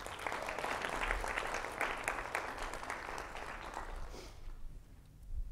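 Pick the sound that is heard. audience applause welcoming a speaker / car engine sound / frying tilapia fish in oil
audience applause welcoming a speaker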